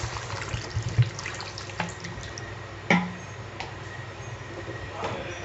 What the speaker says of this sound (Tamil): இப்போ வந்து நம்ம தேவையான அளவு தண்ணி ஊற்றிக்கலாம்.